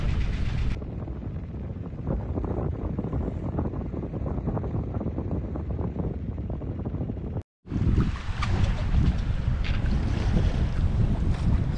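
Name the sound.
sailboat engine running on water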